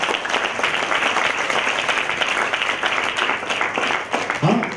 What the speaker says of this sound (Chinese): 大家给双方同学一个掌声好吗